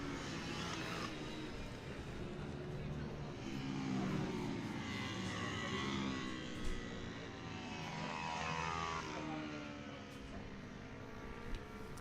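Racing karts at Whilton Mill in a winter-series Mini GP and Junior race accelerate hard down a straight, a steady loud buzzing engine drone that swells and fades as they pass close by, with no talk.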